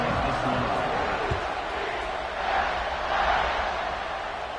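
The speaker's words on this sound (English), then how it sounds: "this crowd is buzzing after that last score." American college football stadium crowd murmurs and buzzes steadily after a score, a broad distant roar with a commentator talking over it.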